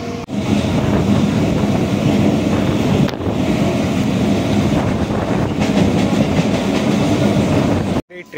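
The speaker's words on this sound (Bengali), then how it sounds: "আমাদের ট্রেন এখন ছেড়ে যাচ্ছে 7:45-এ" A passenger train bound for Digha rolls along the rails, a loud continuous rumble and rattle heard from inside with wind buffeting the microphone, cutting off abruptly near the end.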